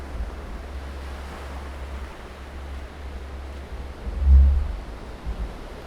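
Ocean waves and wind on Torrey Pines State Beach in San Diego, California, heard as a steady broadband wash of surf with a low wind rumble against the microphone. A slightly louder surge comes near the end, and no one speaks.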